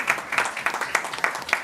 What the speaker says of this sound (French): Sous vos applaudissements, applaudissez-le.